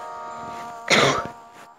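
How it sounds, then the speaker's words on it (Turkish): One short, harsh cough bursts out loud and close, with a faint hum of game audio underneath. "Öksüre öksüre."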